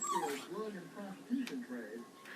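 A pet dog named Angel making soft whimpering, wavering howl-like vocal sounds close by, in short rising and falling phrases.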